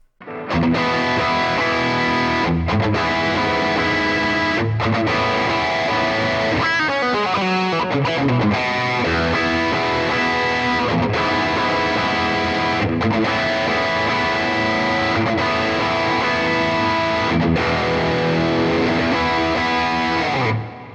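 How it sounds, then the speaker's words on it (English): A distorted electric guitar plays a crunchy, driven riff continuously throughout, loud and close, with no voices: a Fender Stratocaster with humbuckers on the bridge pickup. "you switch down to the bridge and you get your sort of more sort of crunchy Les Paul sort of tones"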